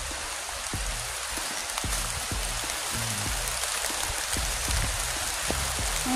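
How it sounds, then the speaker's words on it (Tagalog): Heavy rain roars steadily as a dense hiss, with close drops tapping and plinking on a nearby surface throughout. "malakas ng ulan."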